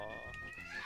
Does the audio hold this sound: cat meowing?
yes